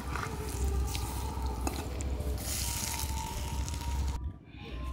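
Cauliflower pieces sizzle and crackle in hot frying oil, a dense close bubbling that runs steadily before dropping away abruptly near the end.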